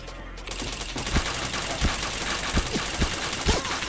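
Rapid gunfire in the Point Blank shooting game, with repeated sharp shots and bursts in an irregular rhythm over steady in-game noise.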